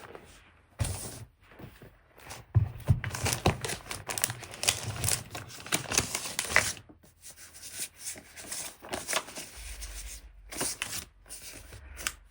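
Sticker sheet being handled and a sticker peeled off during memory-planner journaling, with soft crinkling, rubbing and papery shuffles at close range, coming in bursts with brief pauses.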